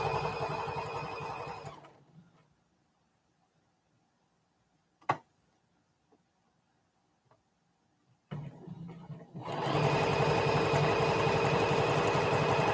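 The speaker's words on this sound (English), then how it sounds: "If you're not confident in keeping your foot of your sewing machine right on the edge of your fabric" A sewing machine runs steadily while stitching quilt fabric, with a loud, fast mechanical whir that stops for several seconds of near-silence and a single click, then starts again and keeps humming.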